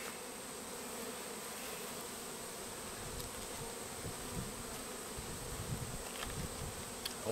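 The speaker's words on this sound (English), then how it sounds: "Got a bee on my case already." A honeybee buzzes continuously close to a beekeeper's suited case while pails are collected from colonies, a steady, faint hum with a few brief louder passes near the end.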